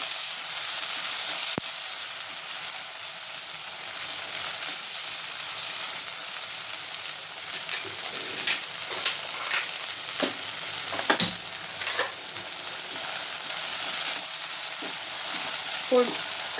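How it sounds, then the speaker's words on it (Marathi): Peas, peanuts and mixed vegetables sizzle and fry steadily in a hot kadhai, with occasional scraping and clinks of stirring. "आता हे सगळं व्यवस्थित परतून घेते"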